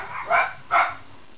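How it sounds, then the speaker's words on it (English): Two short, loud dog barks close by, one after the other, with a brief gap between them, indoors in a home. "my dogs are going crazy again, as usual"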